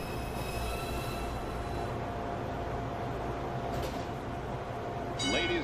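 A New York City subway 1 train rumbles at Rose Street station in a steady low drone, with faint wheel squeal and brief higher screeches near the end.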